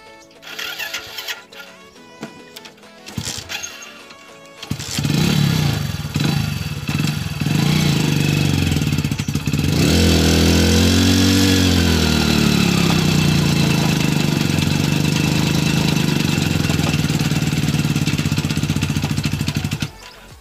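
A Hero HF Deluxe 93 cc motorcycle engine revs hard and strains while pulling against a Massey Ferguson 241 DI tractor, starting with a few sputtering cranks, then a loud, sustained, wavering roar close by.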